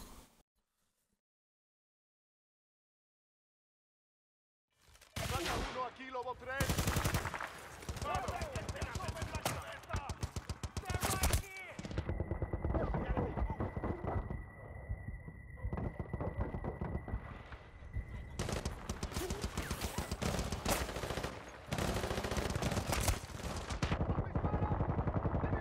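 Loud, rapid bursts of machine-gun fire in Battlefield Bad Company 2 break in after several seconds of silence and keep rattling in dense volleys with other battle noise.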